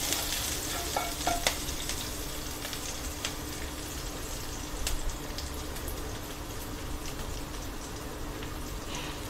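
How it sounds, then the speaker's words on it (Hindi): Potatoes fry with cumin in a pan while being stirred and mixed for a fasting-day dish. A steady, soft sizzle runs throughout, with scraping stir strokes near the start and again around the middle. "इसको अच्छे से मिक्स करें।"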